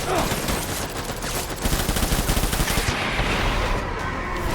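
Heavy enemy gunfire in Death Stranding, with sustained rapid bursts of shots rattling close and loud, pulsing in quick rhythm before easing toward the end.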